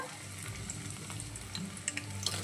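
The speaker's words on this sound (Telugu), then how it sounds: "ఈ బెండకాయలను కూడా కొంచెం కొంచెం వేసుకుంటూ డీప్ ఫ్రై అయితే చేసుకుందాము" Okra pieces deep frying in hot oil, added a little at a time for a crisp fry, giving a steady close sizzle with scattered sharper crackles and pops throughout.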